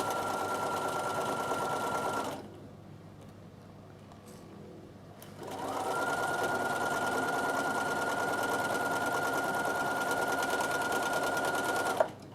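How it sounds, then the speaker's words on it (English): Sewing machine stitching a beginner's Christmas table runner, a loud steady mechanical whir close by that pauses for a few seconds partway and then runs on evenly to the end, no voices. "And just sew all the way to the end and straight off the other end."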